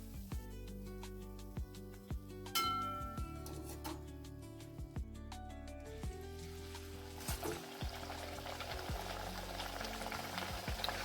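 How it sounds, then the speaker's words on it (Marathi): Pumpkin and jaggery puris deep-frying in hot oil, giving a soft continuous bubbling sizzle with occasional clinks of a utensil against the pan, no voices. "अशाच सर्व पुऱ्या आपण तळून घेणार आहोत."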